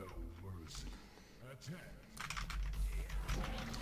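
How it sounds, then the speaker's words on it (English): Clicky computer keyboard typing runs in quick irregular bursts, fairly close and soft, growing busier toward the end, while a person talks over it at times. "You're going to hear lots of keyboard noises."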